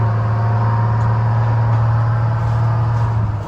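A vehicle engine pulls away after the clutch is released in forward gear, a loud steady low rumble with a strong droning hum, close by, no voices.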